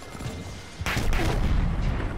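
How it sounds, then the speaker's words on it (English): A grenade explodes in a Call of Duty-style shooter: one heavy, booming blast hits suddenly, then a dense rumble of battlefield noise and distant gunfire follows. "One of my teammates fucking shot a grenade"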